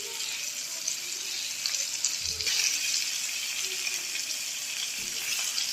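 Hilsa fish frying two at a time in a non-stick pan, giving a steady, loud hiss of hot oil throughout, with a couple of faint low knocks of utensils.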